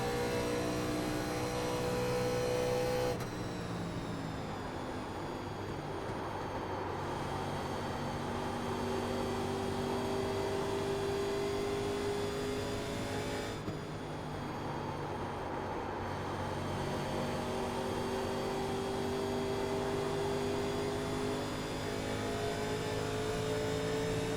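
Race car engine held at high RPM in iRacing's 87 Legends at Indianapolis oval, a sustained whining drone with gear-change drops around a few seconds in and mid-clip, steady and loud throughout without talk.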